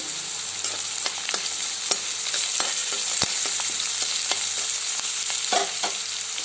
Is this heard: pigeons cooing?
no